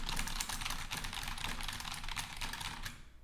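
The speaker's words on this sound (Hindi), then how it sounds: "या मैं कीबोर्ड पे कुछ टाइप करता हूँ," Fingers tap quickly on a computer keyboard, a dense run of light, close clicks with uneven rhythm, fairly quiet and with no voice over it.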